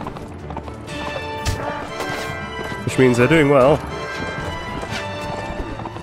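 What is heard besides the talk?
horses galloping in the video game Mount & Blade: Warband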